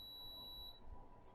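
A nearby speaker's faint, steady high-pitched electronic beep sounds alone in a quiet room and then cuts off partway through.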